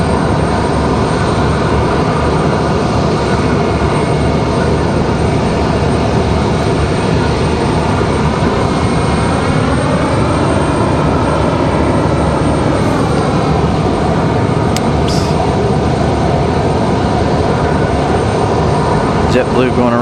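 A JetBlue Embraer E-175 taxiing at Raleigh-Durham International Airport fills the scene with a loud, constant jet-engine roar and whine that holds steady throughout.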